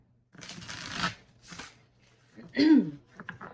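Tarot cards are shuffled close up in several short riffling bursts separated by pauses, and a voice briefly speaks near the end.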